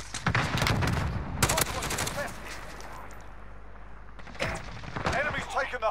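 Shooter-game combat with gunfire and rockets fired through a window, loud bursts of shots and thumping blasts in clusters with a quieter stretch between, a voice speaking over it.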